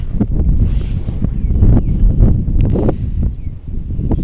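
Strong winter wind in frosty weather buffets the microphone in a steady low roar, gusting and rumbling throughout, with no voices.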